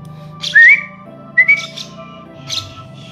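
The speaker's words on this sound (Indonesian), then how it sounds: "Kalau lihat tangan belum datang, tinggal panggil pakai siul." A person whistles short rising notes in a few separate bursts to call a free-flying lovebird during training. The whistles are close and clear, with soft background sound between them and no talk.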